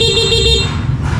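A Honda Beat Premium 110 scooter horn sounding once, a loud steady electric beep lasting about half a second close by, followed by brief rustling noise.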